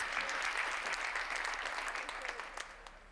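Conference attendees break into a burst of applause, with many hands clapping loudly at first and then gradually thinning and fading toward the end.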